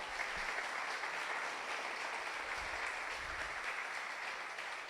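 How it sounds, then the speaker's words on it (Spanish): A church congregation claps at a Sunday service, a dense, steady wash of applause that holds evenly from start to finish without voices. "Vamos a darle fuerte ese aplauso al Señor."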